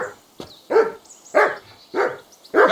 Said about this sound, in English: Whistle to that dog.